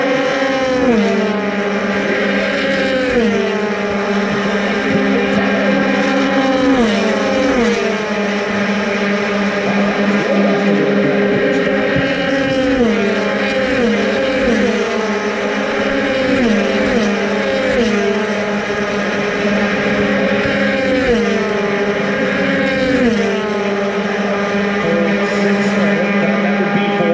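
USF Pro 2000 open-wheel race cars scream down the front straight at the GMR Grand Prix, loud sustained engine whine with repeated pitch drops as cars pass and shift, one after another, with no voices.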